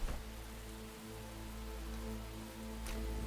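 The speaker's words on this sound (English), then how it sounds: "It's raining, it's pouring," Steady rain falling in the video game Enshrouded, a soft continuous patter with faint background hum and no talk.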